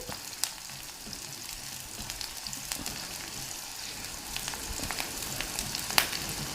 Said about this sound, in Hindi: प्याज को हमें अच्छे से गोल्डन ब्राउन कर लेना है, लेकिन काला नहीं करना है। इसलिए प्याज को हम धीमी धीमी आंच पर अच्छे से कुक कर लेंगे।